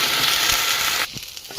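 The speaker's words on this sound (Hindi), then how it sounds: "इसको हल्के से मैं थोड़ा सा घी में रोस्ट कर लिया है।" Soaked broken wheat (dalia) roasting in ghee in a pan gives a steady, close sizzle with faint stirring scrapes, then drops abruptly to quieter crackles near the end.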